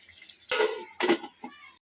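A lid goes onto a pot of cooking meat in a home kitchen, making a few close metallic clanks and scrapes in quick succession, the last one fainter.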